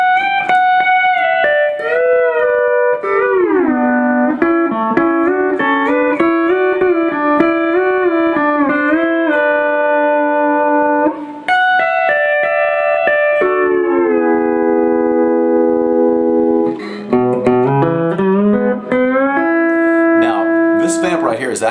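Pedal steel guitar soloing on a country song, with smooth sliding bends and sustained notes that swell and glide between pitches. It plays loud and continuous, without talk.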